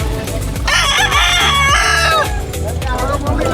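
A large fighting rooster at a provincial market in Calasiao, Pangasinan crows loudly and close, one long drawn-out cock-a-doodle-doo with hens clucking and other fowl around.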